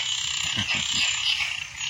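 Frogs croaking near a lotus pond, a dense chorus of rhythmic croaks pulsing together over steady high-pitched insect-like background noise, with no voices.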